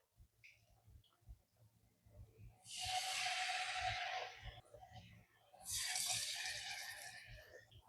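Marinated chicken pieces going into hot oil to fry, with two separate surges of bright sizzling hiss, each lasting a couple of seconds, between quieter stretches with faint voices and low thumps.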